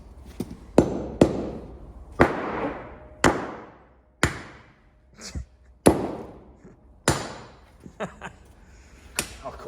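A heavy hammer drives something down into a hole outdoors, landing about a dozen sharp, ringing blows at an irregular pace, each strike decaying quickly, with faint voices in between.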